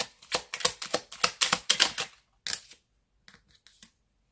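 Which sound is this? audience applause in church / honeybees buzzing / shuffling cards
shuffling cards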